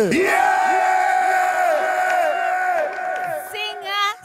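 An audience at a talk event for a Sauti Sol guitarist bursts into loud shouting and cheering on cue, a dense crowd roar with whoops that tapers off near the end.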